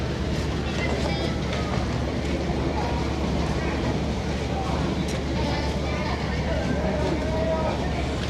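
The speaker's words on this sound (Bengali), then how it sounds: "ট্রলার যাত্রী নিয়ে আসছে," A passenger trawler nears the ghat of a Malaysian island with a steady low engine rumble, wind and water noise, while people talk nearby.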